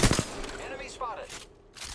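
Gunfire in Apex Legends, a few sharp shots at the start followed by scattered game effects, fairly close and moderately loud.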